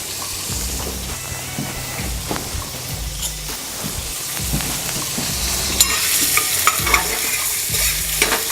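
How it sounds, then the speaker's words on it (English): Bacon cooking on high heat in a pan for shrimp scampi, a continuous close sizzle and crackle with stirring and scraping knocks throughout, growing slightly louder toward the end. "we're gonna let our bacon cook for about 2 minutes on high"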